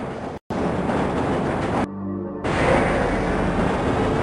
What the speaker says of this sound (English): This train is inbound from Level 3 dormitories to Sector C test labs and control facilities